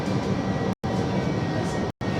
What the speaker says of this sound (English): here we are, we're on this tram